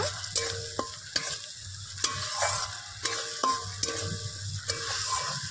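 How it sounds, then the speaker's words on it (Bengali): Spices and a few raisins sautéing over medium heat for a spicy pointed gourd dish, with steady sizzling and rhythmic spatula strikes against the pan about once a second, close and clear, with no talking. "মশলাগুলোকে এবার মিডিয়াম আছে একটু ভালো করে কষিয়ে নেব"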